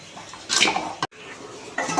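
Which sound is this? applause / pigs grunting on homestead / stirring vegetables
stirring vegetables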